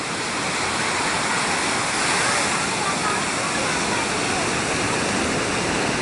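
Surf at Balangan beach, Bali: a continuous, dense roar of breaking waves filling the whole clip at steady loudness, with no distinct breaks and no talking.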